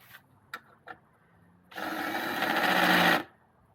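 A drill working on a Mountfield rotary mower: a few sharp clicks and taps, then a single loud whirring burst of about a second and a half that spins up and cuts off, close by.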